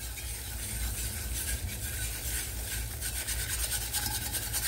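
A utensil scrapes steadily across the bottom of a skillet of gravy, a continuous close rasping rub lasting several seconds with no talking.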